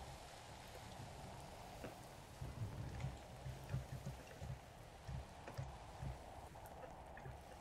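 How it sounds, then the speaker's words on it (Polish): Radioactive rain falls in a Roblox game, a faint, steady hiss of rainfall with light, uneven patter and soft drip-like ticks throughout. "A nie, to po prostu teraz radioaktywny deszcz."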